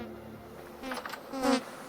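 Bees buzzing around straw skeps in the Vintage Story video game, a soft continuous insect drone that swells briefly louder near the end as a bee passes close.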